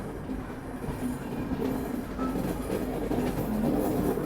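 A train rumbles close by at Hazrat Nizamuddin station, Delhi, with a steady low mechanical drone that slowly grows louder.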